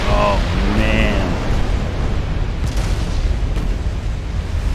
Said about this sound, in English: that was a brutal salvo. 3 20-inch hits, each doing significant damage